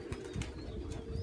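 Pigeons landing, their wings flapping in quick soft bursts close by over a steady outdoor hum, with no talk.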